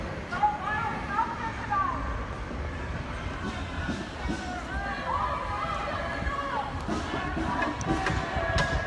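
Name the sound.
protest crowd chanting Black Lives Matter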